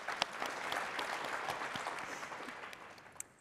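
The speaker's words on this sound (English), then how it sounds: "Let's clap." An audience applauds during a fireside chat at a space research conference, a short burst of moderate clapping from a crowd that fades gradually over a few seconds.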